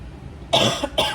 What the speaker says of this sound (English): I apologize for coughing, but I can't help it.